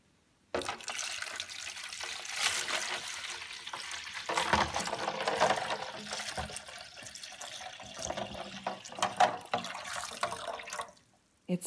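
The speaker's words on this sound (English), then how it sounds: "Let's fill the tub with water." Water from a tap runs into a toy bathtub, a steady splashing trickle that starts abruptly, continues close and fairly even with a few small clinks and stirring sounds, then stops near the end.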